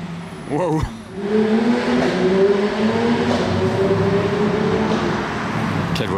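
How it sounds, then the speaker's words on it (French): A Porsche sports car with a PDK dual-clutch gearbox accelerating hard on a Monaco street, its engine rising in pitch through quick gear changes, loud and close with street ambience behind. "Quelle voiture, quel passage de vitesse cette boîte PDK"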